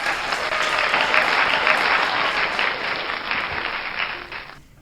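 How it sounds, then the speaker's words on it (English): An audience at an awards ceremony bursts into sustained clapping, a dense, loud, even patter lasting several seconds before tapering off at the end. "please give him a huge round of applause"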